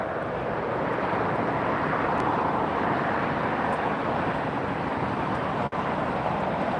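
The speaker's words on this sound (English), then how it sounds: "Arriving now, Hawaiian Airlines, Airbus 330, 200 series, came in from Honolulu." A Hawaiian Airlines Airbus A330-200 jet arriving at Los Angeles International Airport from Honolulu, a steady broad roar of engine and airflow that stays loud and even throughout.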